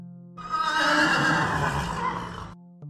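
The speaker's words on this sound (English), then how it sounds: "Horse." A horse gives one loud, close whinny, a shaky breathy neigh lasting about two seconds, framed by soft musical notes.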